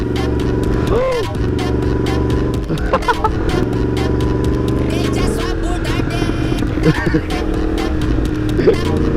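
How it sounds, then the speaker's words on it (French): A grey Yamaha MT10 with fluorescent yellow details and a four-cylinder CP4 engine riding along, a steady engine drone with wind noise and rising pitch sweeps on throttle changes, close and loud under a rider's talk. "MT10 gris avec des détails jaune fluo, 4 cylindres, CP4. Alors, qu'est-ce qu'elle donne cette moto?"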